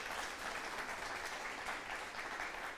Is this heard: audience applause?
yes